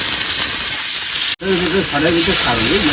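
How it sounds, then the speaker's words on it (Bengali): Onion, ginger and garlic go into hot oil together, giving a loud, steady frying hiss that cuts out briefly before resuming, with a voice sounding over the sizzle in the second half. "পেঁয়াজ আদা রসুন একসাথে দিয়ে দিলাম"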